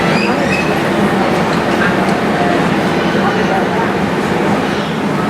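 A freight train hauled by a class 66 locomotive rolls past a Yorkshire station, a dense, steady roar of wheels and rail noise that stays loud and close throughout, with no clear break or fade.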